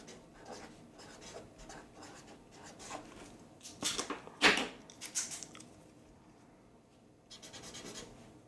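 A Writech retractable chisel-tip highlighter drawn across paper, making soft, scratchy rasping strokes with a few louder scrapes in the middle, close and quiet.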